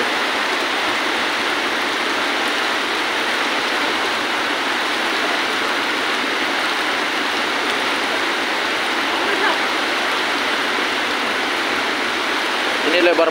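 Floodwater from an overflowing river in Parigi Moutong, about 100 meters wide, rushes in a loud, constant broadband roar throughout, with no clear voices over it.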